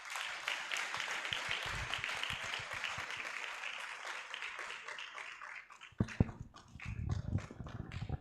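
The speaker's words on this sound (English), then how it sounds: "So please make way with a huge round of applause for our first speaker" Audience applause greets the first speaker at a youth leadership debate quarter final: a dense, steady patter of many hands clapping, fairly loud and continuous, with sharper, heavier claps and knocks near the end.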